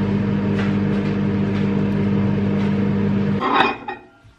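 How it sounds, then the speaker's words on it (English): A microwave oven runs with a steady, loud hum for about three and a half seconds, then stops with a short clunk and a few faint clicks as it falls quiet. "Okay, so microwave for 50 seconds. You are beside the microwave, so this is going to be noisy."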